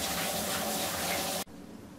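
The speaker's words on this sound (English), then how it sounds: "Wash my hands." Tap water runs steadily as hands are washed under it, a continuous loud splashing gush that cuts off abruptly near the end, leaving quiet room tone.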